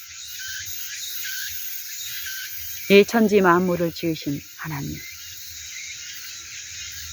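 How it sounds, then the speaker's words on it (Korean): A cicada drones on a steady high-pitched buzz through the whole stretch, moderately loud, while someone speaks briefly over it in the middle. "저 매미가, 들려지는 지금 매미, 이 매미가 당하는 모든 일들, 저 소리 내는 일들"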